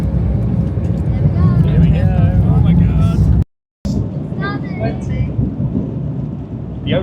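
Inside a Virgin Atlantic airliner taking off, the engines make a heavy, constant roar that fills the cabin, with voices talking under the noise and a brief dropout partway through.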